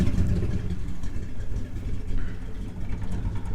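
A big block V8 truck engine rumbles and revs continuously through a very long exhaust, a steady loud low throb with small swells in pitch throughout.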